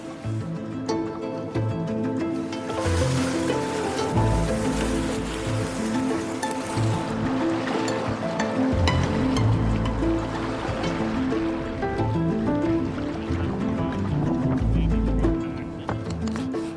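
A loaded canoe being lined up the bank of a river in the Scottish Highlands, rushing water flowing and churning steadily close by, with occasional knocks and scrapes of the hull and gear.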